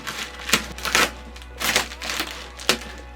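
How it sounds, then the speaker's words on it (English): A knife slices open the plastic bag around a pair of Yeezy sneakers during an unboxing, producing several sharp, close crackling bursts and crinkles in an irregular rhythm. "Remember when cutting open a box to always cut away. In this case, a bag,"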